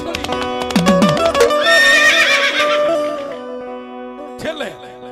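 A horse neighing loudly as a sound effect in a told folk tale, a long, close whinny followed by a shorter second call, with a voice speaking around it.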